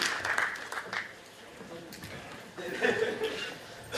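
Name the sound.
audience applause welcoming the lecturer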